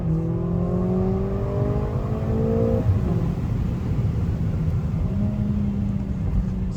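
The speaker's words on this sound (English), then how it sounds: "Got the foot pressed firmly on the brake, and then put it on the accelerator" A car launching from a standstill in Sport Plus mode after a brake-held boosted start, its engine rising in pitch under hard acceleration, then a gear change and a steady deep rumble as it keeps pulling, heard from inside.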